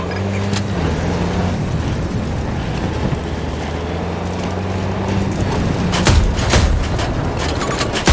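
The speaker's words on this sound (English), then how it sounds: "Enemy vehicle spotted!" Enemy vehicle engine in a video game, a low rumbling drone that rises and shifts in pitch, with sharp crackling bursts near the end, loud and close.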